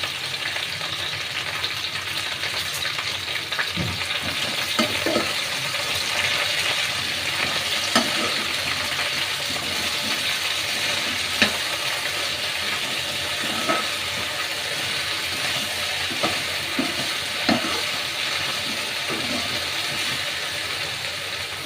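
Okra pieces fry in a pan with a loud, steady hiss of oil, broken by occasional spatula scrapes as they are stirred, heard up close with no one speaking.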